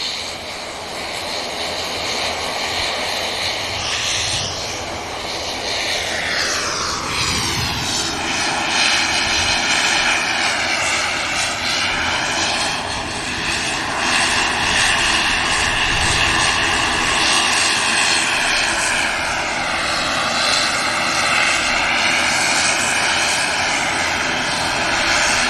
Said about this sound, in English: I'm using a bit of runway, that Embraer.